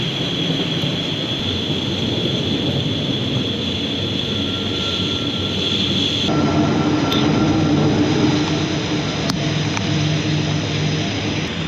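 A train passes close by, producing a loud, steady rumble with a thin metallic squealing tone running through it; the roar shifts slightly midway and continues with no one speaking.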